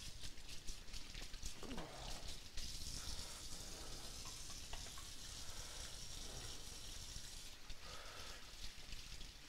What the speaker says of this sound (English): Hear that nice sizzle in the pan.